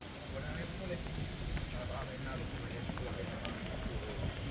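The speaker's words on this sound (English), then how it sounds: "The rain picks up a little bit" Steady rain falling in Amsterdam, a continuous broadband hiss heard outdoors with no break, with faint background sounds mixed in.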